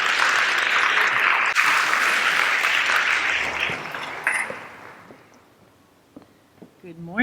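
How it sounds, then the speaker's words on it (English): Audience applause for a speaker at an entrepreneurship talk, a loud, full burst of clapping that gradually thins and dies away, followed by a voice beginning to speak. "So, a round of applause for Dr."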